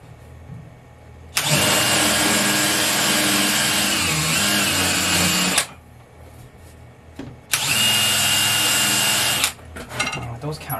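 A power drill countersinks holes, whirring loudly in two long bursts, about four seconds then two seconds, with a short quiet gap and faint handling noise after.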